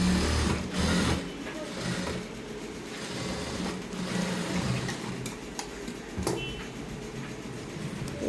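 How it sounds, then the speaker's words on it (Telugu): A sewing machine stitches a straight seam on a dress, its steady mechanical whirring running close and continuous with brief pauses and clicks. "ఈ విధంగా స్టిచ్ చేసుకోవాలి స్ట్రైట్గా"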